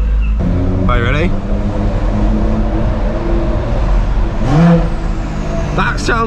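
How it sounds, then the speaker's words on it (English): A BMW M140i with a Stage 2+ tune revs out hard with no bangs or pops, a loud continuous engine roar rising and falling over several seconds, with brief chirps or squeaks on top. "And that is just revving out. There's no bangs or pops."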